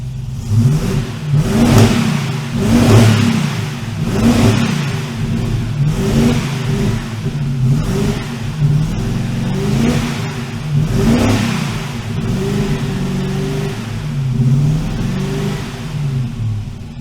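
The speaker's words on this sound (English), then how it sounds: "Right, well, we definitely got a misfire." A TVR V8 engine with a misfire revs in repeated surges, its low rumble rising and falling unevenly with a rough, stuttering beat throughout.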